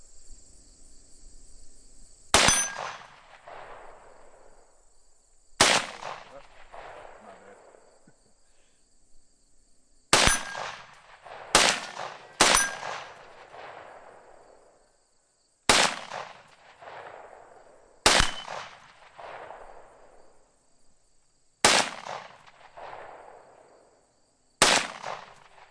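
Single pistol shots fired at a 3-inch target about 36 yards away with a UUQ Prince 5 red dot sight, about nine sharp, loud reports spaced a few seconds apart, each followed by a short decaying echo outdoors.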